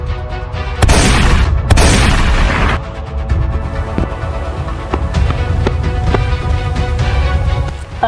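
Gunshot sound effects in a Hindi drama scene: two loud, close booming blasts in quick succession, followed by lighter sharp cracks and clatter under a continuing dense rumble.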